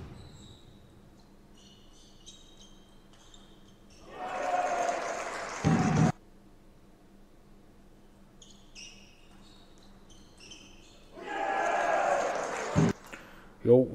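Applause breaks out twice in a table tennis match after a forehand clips the edge of the table, each burst of clapping lasting a couple of seconds and sounding moderately close, with quiet background noise between the bursts.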